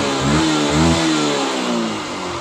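A Yamaha R15 V1 motorcycle with a misfire fault and error code 55 revs close up, the engine note swelling twice then settling into a rough, uneven idle.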